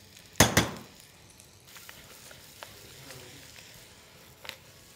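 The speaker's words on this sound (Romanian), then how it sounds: "Prăjim mere în unt, frumos," Apples frying in butter in a pan, opening with two sharp loud clatters of utensil or pan, then a low steady sizzle with faint scattered clicks.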